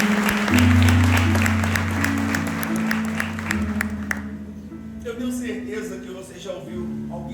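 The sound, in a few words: church congregation applause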